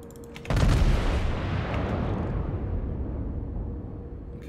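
Iowa battleship main guns fire a heavy broadside in the World of Warships naval game, a sudden loud boom that rolls into a long, thundering rumble and slowly fades.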